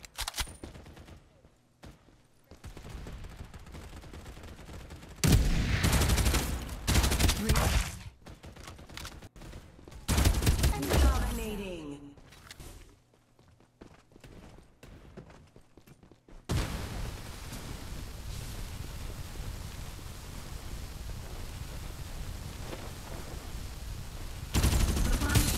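Gunfire in the video game Farlight 84 while playing the hero Lucinda, with loud rapid automatic bursts and heavy sustained fire separated by quieter stretches of game noise, and a voice talking briefly between shots.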